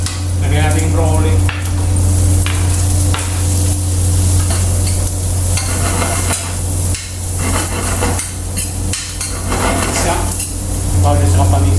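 Broccoli tossed into a hot pan of sizzling garlic and onion, with repeated clanks and scrapes of a utensil against the pan over continuous frying, no talking.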